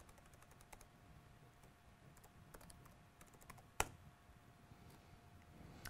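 Keystrokes on a computer keyboard as a command is typed into a terminal, soft irregular clicks at close range with one louder sharp tap, and no talk.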